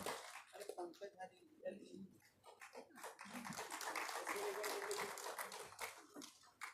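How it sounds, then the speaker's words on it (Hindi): An audience at a formal ceremony applauds to welcome guests. A voice speaks over a sparse start, then dense clapping swells and carries to the end. "कृपया आप सब लोग ताली बजाकर हमारे अतिथियों का उत्साहवर्धन करें।"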